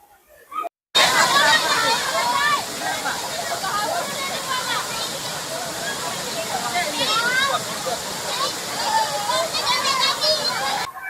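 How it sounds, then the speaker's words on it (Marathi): A monsoon waterfall and forest stream at Somnath near Chandrapur, a steady loud roar of rushing water beneath a busy crowd of tourists chattering and calling out throughout. "पावसाळ्याच्या दिवसात आणि इथून जंगलातून पाणी वाहत असते"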